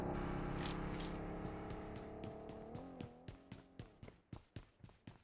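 Car engine in the video game PUBG, a sustained revving drone that shifts pitch as the vehicle gets moving, followed by a series of rhythmic mechanical clunks, heard alone without talk.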